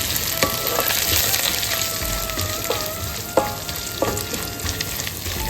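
Fennel seeds and curry leaves sizzle loudly in hot oil, a dense, steady crackle with scattered sharp pops and a few stirring clinks, close up and continuous, with no talking.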